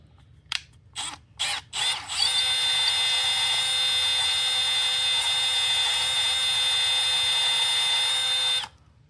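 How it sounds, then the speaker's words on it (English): Power drill whirs on a Snap-on ratchet hard handle, a few short bursts first, then a steady high-pitched run lasting several seconds that stops abruptly, loud and close. "We better get that drill in there one more time."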